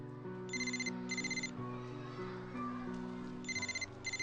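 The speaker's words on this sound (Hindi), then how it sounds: "मैडम काफी देर से फोन बज रहा है आपका" A mobile phone ringtone repeats in short bursts of bright tones over a soft melodic background, ringing persistently and fairly close.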